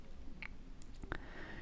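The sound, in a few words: computer mouse click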